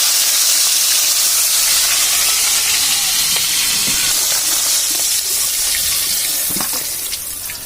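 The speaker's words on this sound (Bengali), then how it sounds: "আর বাদ বাকিগুলো যা ছিল সবগুলো ভেজে নিচ্ছি।" The remaining khalla fish pieces fry in hot oil in a kadai, a steady, close hissing sizzle with occasional pops that gradually eases off toward the end.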